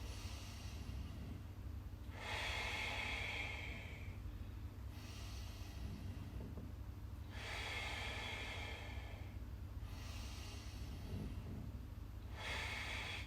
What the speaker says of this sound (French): Inspire par le nez. Expire.